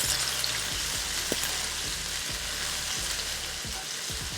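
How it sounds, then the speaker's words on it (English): Chopped onions sizzle steadily in a hot frying pan with oil, a constant crackling hiss with a few soft stirring thumps underneath. "I'm going to grab the chopped onions, the sizzle, guys. My favorite sound in the whole world."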